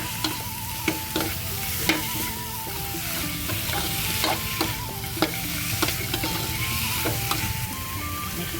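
Pork bones fry and sizzle in a pot as the base for bamboo shoot soup, with a steady hiss and repeated scraping clinks of stirring against the pot throughout, and no talking.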